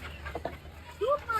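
A black chicken (karunkozhi) at the Pallavaram Friday market gives a few short, rising clucks near the end, under nearby voices and general market chatter.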